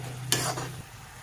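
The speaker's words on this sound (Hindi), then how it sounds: "देखिए मसाले कितने अच्छे से भून रहा है" Tomato masala fries in a pan with a low steady sizzle, broken by one brief scrape of a spatula stirring it, close and fairly quiet.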